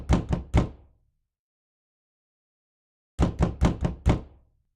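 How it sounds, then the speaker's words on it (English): Knocking on a door sounds in two bursts: three sharp raps close together, a pause of about two seconds, then four more firm knocks, loud and close with no talk. "Hear the knock on the door."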